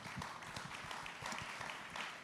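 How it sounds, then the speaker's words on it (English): Audience applause for a panel at a political conference, steady and continuous across the whole stretch, moderately distant in a large room with no talk over it. "Please, a nice round of applause for this end of the panel."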